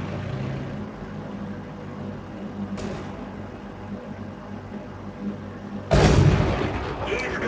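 SU-85 tank gun in World of Tanks firing two loud booming shots, the second much heavier with a long rumbling tail, over a steady engine drone.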